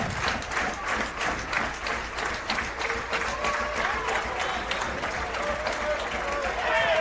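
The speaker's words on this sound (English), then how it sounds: "How long can you stand and stomp your foot?" Crowd in a gym at a women's volleyball match stomping feet on bleachers, a rapid, steady stream of thumps mixed with clapping and cheering, with a commentator speaking throughout.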